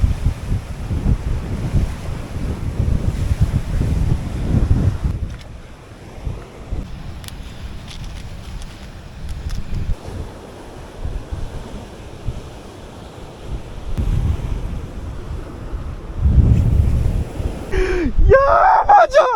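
Surf breaks against rocks on a Jamaican shoreline while steady wind buffets the microphone, a loud roar with surges near the start and end.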